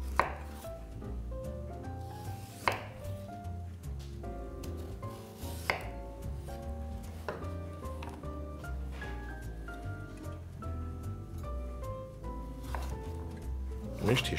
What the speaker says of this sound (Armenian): Քանի դեռ կտրատում ենք գազարը